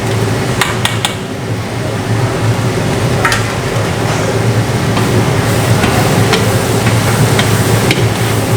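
Chopped onion goes into a pan where garlic is already sautéing, giving a loud, dense, continuous sizzle and hiss close up, with a few brief clinks of a utensil near the start.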